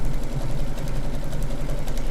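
Sewing machine stitching fabric for a quilt block, a steady rapid mechanical whir with a fine repeating needle clatter, close and continuous with no talk.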